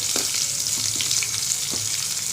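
Onions frying in a pan with cumin, pepper, mustard seeds and cashews for aval pongal, a steady close sizzle with soft crackles and a few stirring scrapes over about two seconds, no voices.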